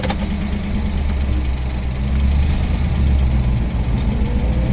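An old 1990 Russian GAZ truck engine idles nearby with a steady, heavy low rumble and slight knocking texture, continuous and loud with no talking.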